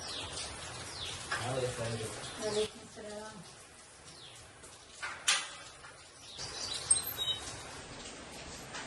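Small birds chirp and twitter in short bursts close by at a nest on a house sit-out, mixed with some indistinct talking.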